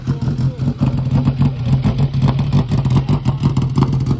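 A bodyless streamliner with a motorcycle engine in the back drives at Bonneville, its engine pulsing and revving in close, loud rhythmic bursts throughout.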